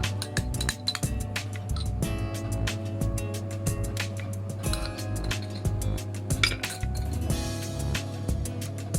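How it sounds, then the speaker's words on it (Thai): A spoon clinks repeatedly against a bowl while stirring cooked, blended rice paste with concentrated radish juice for a homemade skin cream, with steady tones running underneath. "เดี๋ยวเราคนให้เข้ากันก่อนนะคะ"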